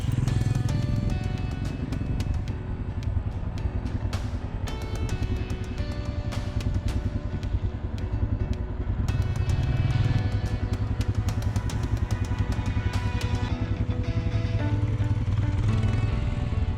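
A motorcycle rides along an icy, snow-dusted Himalayan mountain road with a steady close engine drone and rumble, broken by ticks and rattles of the road and bike, with no talk.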